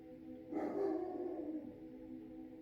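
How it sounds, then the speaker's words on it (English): A single drawn-out dog bark or whine, moderately close, rising out of a quiet humming background and fading after about a second. "see, now my dog is barking"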